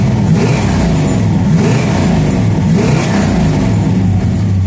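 A big-block 383 V8 in a 1968 Dodge Dart GTS with a four-speed revs loudly and continuously up close, a deep throaty roar holding steady throughout with no talking.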